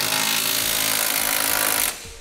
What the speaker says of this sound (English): Now we'll snug down our hardware with a 3/4-inch socket.